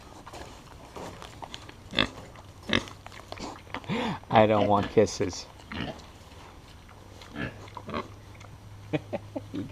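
Pigs grunt and snuffle up close on a farm, with bursts of snorting and a squeal, while someone talks between them and a voice imitates the oinking.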